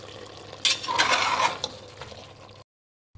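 Chicken and chopped tomatoes for a Chettinad chicken biryani are stirred in a pan, making a close, rasping scrape and rattle of the spoon across the pan for about two seconds, with a soft sizzle underneath, then silence.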